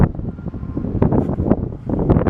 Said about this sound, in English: it's a very windy morning here